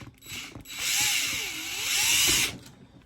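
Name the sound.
power drill driving ice studs into shoe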